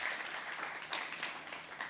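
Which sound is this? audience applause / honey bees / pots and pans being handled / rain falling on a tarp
audience applause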